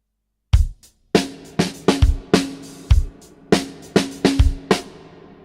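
A drum groove with every hit struck at the same loud level, kick and snare strokes evenly accented in a steady rhythm, played alone.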